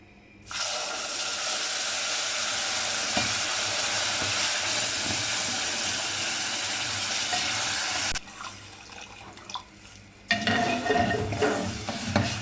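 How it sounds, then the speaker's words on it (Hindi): Water poured into roasted semolina for sweet suji halwa sizzles loudly and steadily for about eight seconds, then drops to a quieter bubbling hiss before a brief renewed burst of sizzling and stirring, with no talking. "अब इसमें पानी डालेंगे 3 कप।"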